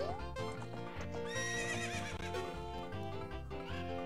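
In Zelda Ocarina of Time, a horse whinnies in a loud, rising and falling neigh over steady clip-clopping hooves and background game music, fairly close and without talk.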